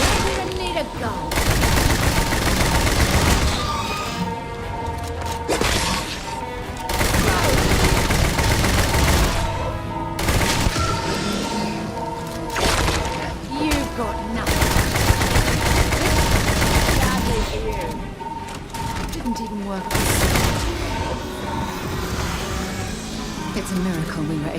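Rapid bursts of gunfire and automatic weapon fire from a firefight in the game Starfield, loud and sustained with brief pauses, mixed with combat effects throughout.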